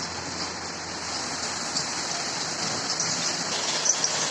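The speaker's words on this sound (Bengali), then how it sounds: "বাইরে খুব বৃষ্টি হচ্ছে, এই জন্য আওয়াজটা এমনি আসছে।" Heavy rain pours steadily outside during home cooking of a country chicken curry, a dense, even hiss that fills the whole stretch with no pauses or talk.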